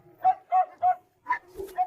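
A small Pomeranian Boo dog gives a run of short, high yappy barks, four or five sharp bursts spaced closely together, near and clear.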